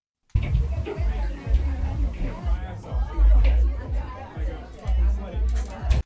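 A noisy party crowd fills the space with dense overlapping chatter and babble of many voices, loud and close, rising and falling without a break.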